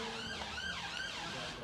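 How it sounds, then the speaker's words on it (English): Wailing police car siren racing along the M40 slip road, a continuous rising and falling tone, fairly loud over a steady traffic and outdoor roar at a football match. "Police car racing down the M40 slip road behind us."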